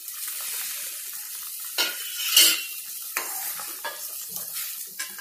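Rasgulla in sugar syrup with cardamom powder being gently stirred in a pot from the side, a faint bubbling hiss with a few soft scrapes and clinks of a spoon against metal.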